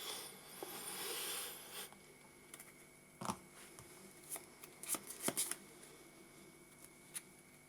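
Yu-Gi-Oh! playing cards being tidied by hand: a soft shuffling rustle for the first couple of seconds, then scattered light clicks and taps as the cards are squared up, close and quiet.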